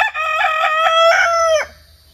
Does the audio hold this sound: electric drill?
no